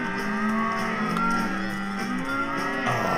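Several cows mooing together in the Cowmets video game, long overlapping bellowing calls that fill the whole stretch, loud and close, with no talk over them.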